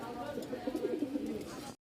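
Fancy pigeons at a pigeon market in Mirpur-1, Dhaka, coo softly in a short burst of low, rolling calls, fairly close, over a faint background hum.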